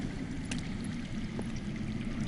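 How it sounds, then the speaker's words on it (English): Underground running water in a Game of Thrones video game, a faint continuous rushing and gurgling flow, steady and distant, with a couple of soft knocks along the way. "That's water. I hear water. From underground."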